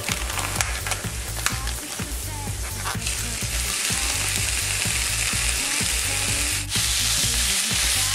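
Ground meat sizzling in a skillet with garlic and onions, a loud, steady frying crackle with intermittent stirring scrapes and pops throughout, no talking.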